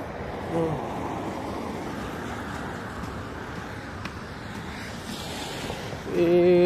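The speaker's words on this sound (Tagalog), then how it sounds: "Tubig." Water washing and rushing steadily throughout, with a broad wave-like wash and some wind buffeting, growing louder near the end.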